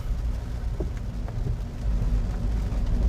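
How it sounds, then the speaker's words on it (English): Rain falling on a stock 2017 Ford Fiesta ST driving on backroads, a steady wash of patter over the low rumble of the car from inside the cabin, with a few faint drips and no voices. "Just started raining, so let's do some backroads"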